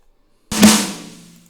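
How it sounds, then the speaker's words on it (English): Reversed and cut snare sample in an ambient cloud-rap beat: a sudden swelling burst of noisy snare texture with a short tonal ring that decays over about a second, close and isolated. "I took another snare and reversed it."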